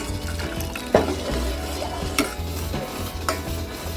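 Jaggery being stirred into water to dissolve it for kambu (bajra) kozhukattai, a spoon scraping and swishing through the liquid in a steady close rhythm with a few sharper clinks against the vessel.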